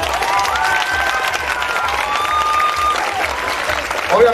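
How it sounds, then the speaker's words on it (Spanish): Audience at a regional dance contest applauding, dense continuous clapping with some crowd noise throughout, loud and close. "El aplauso para la porra de Soul Dance."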